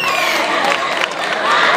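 An audience at a cosplay contest awards ceremony in Guadalajara cheers and shouts loudly, a dense continuous crowd roar heard close.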